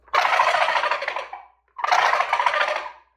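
Two rapid, rattling turkey gobbles produced by a hunter's diaphragm mouth call, each about a second and a half long, loud and close, imitating a wild gobbler.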